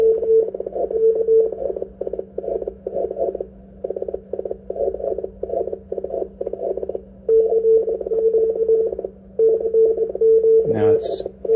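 Morse code tones from a Yaesu FT-DX10 transceiver through a 500 Hz filter, a steady pitched CW signal keyed in continuous dits and dahs over a constant low hum, with a brief sweeping squeal as the radio is retuned near the end.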